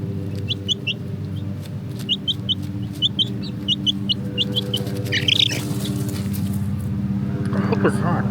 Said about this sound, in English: All right, we have this chicken is Willow.